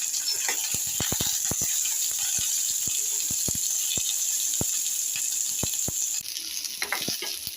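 Onions sizzle loudly in hot oil in a kadhai with a steady hiss, punctuated by sharp crackles and pops scattered throughout.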